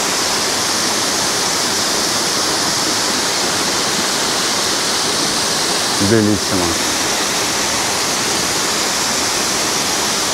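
The Olginsky waterfalls in eastern Abkhazia pour with a loud, steady broadband roar of falling water, constant throughout; someone briefly speaks over it near the middle.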